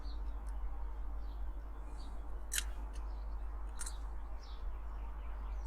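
A blade is cut into a Corgi 268 Green Hornet "Black Beauty" toy figure during restoration, giving a few sharp, brief snips against a steady low hum, close and quiet, with no talking.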